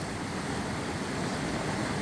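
Loud, steady rush of a hill stream near Dehradun, continuous broadband roar of churning water close by with no pauses and no talk.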